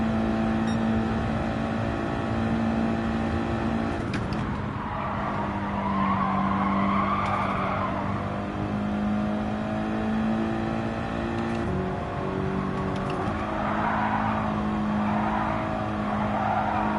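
A race car in Gran Turismo 7 holds a steady, droning engine note while braking and accelerating, with tire squeal rising and falling over the continuous engine sound.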